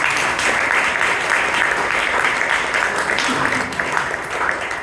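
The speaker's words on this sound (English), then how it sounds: "Big round of applause, please" A Toastmasters club audience in Bangalore applauds steadily, a continuous wash of many hands clapping at an even level throughout.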